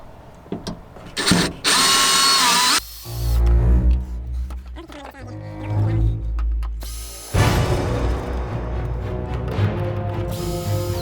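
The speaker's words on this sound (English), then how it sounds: "Electric screwdriver." An electric screwdriver backs screws out of a panel during a battery installation in an Alliance Avenue RV, several loud whirring bursts separated by clicks, handling noise and pauses.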